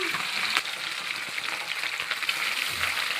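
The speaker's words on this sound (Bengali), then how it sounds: "আমি মাছগুলো ভাজা করতে দিয়ে দিলাম" Fish fry in hot oil in a wok, giving a continuous bright sizzle with light spitting, moderately close and unaccompanied by any voices.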